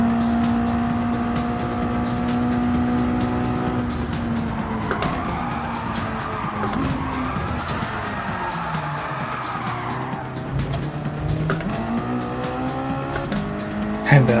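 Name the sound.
MX-5 race cars on track, Gran Turismo video game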